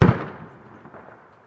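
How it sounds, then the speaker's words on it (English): A single distant gunshot cracks once, then a soft rumbling echo fades away over about a second. "I heard a gunshot."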